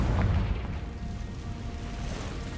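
A Confringo blasting spell explodes in the Hogwarts Legacy video game: a deep, muffled boom hits at the start, then a low rumbling tail fades away with no voices.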